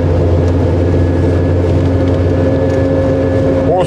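A steady engine drone hums continuously from inside a black five-speed Dacia driving on the streets of Craiova, low and constant with road and wind noise, no voices.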